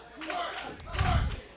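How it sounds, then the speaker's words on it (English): Wrestling crowd at a live independent pro wrestling show cheering and roaring, with swelling shouts and a heavy thud midway, loud and close, a mass of voices rather than clear speech. "Just listen to the crowd here."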